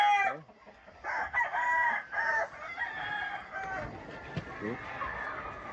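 Roosters crow and cluck in a farmyard with stags present, several calls overlapping at close range, a steady murmur of birds and activity underneath.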